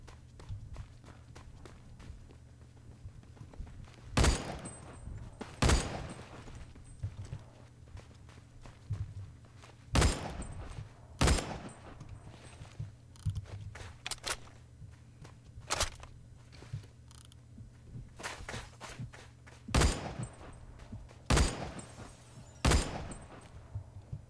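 Dragunov SVDS marksman rifle firing in Roblox Phantom Forces, with about a dozen sharp, loud single cracks spaced irregularly a second or more apart over a low steady hum, some shots coming in quick pairs.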